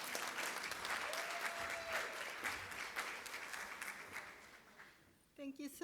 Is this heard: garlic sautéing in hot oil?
no